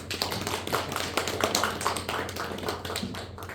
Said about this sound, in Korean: 우리 황지연 선생님 고생하셨는데 박수 한번 해주세요